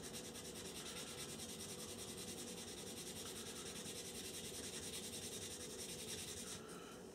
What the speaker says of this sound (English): Give it a sand